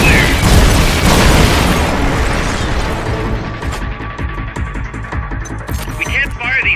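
Supporting-fire explosions in a Metal Gear video game: a heavy, loud boom opens, then a rumbling decay with scattered crackling impacts, and a voice speaks briefly amid the blasts.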